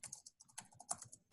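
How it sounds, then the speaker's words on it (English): Quick bursts of keystrokes on a computer keyboard, a steady run of light clicks with brief pauses, fairly faint and close by with no voices. "I hear some typing."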